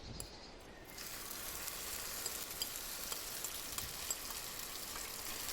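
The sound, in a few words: ingredients frying in hot oil in a pan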